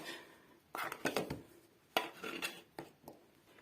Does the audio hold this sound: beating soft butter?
yes